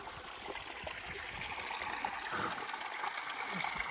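Spring water flows steadily from a source beside a coastal walking path near Bizerte, making a continuous close trickling and babbling wash with no voices.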